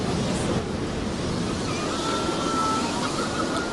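Steady wind roars against the microphone beside the sea, mixed with a broad wash of surf, with no voices.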